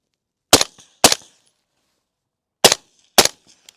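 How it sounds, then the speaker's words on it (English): Rifle shots fired in two quick pairs on a range at rubber and steel targets, each sharp loud crack with a short decay, a long pause between the pairs. "We'll put 2 rounds in each of those using the red dot, and then I'll transition out to the steel"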